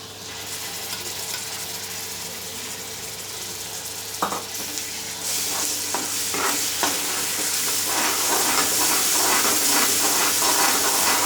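Ground masala paste is stirred into onions frying on a medium flame for a tondli (ivy gourd) vegetable dish. A steady close sizzle grows louder as the paste goes in, with scraping stirring strokes over it.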